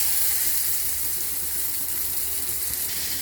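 Pointed gourd (potol) frying in hot oil in a pan after bele fish, a steady close broadband sizzle holding evenly throughout with no talk.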